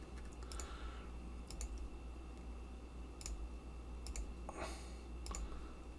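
Mouse buttons clicking on a computer while laying out 8-foot grid lines in Revit: a few sharp, quiet clicks scattered irregularly over a low steady room hum, no talking.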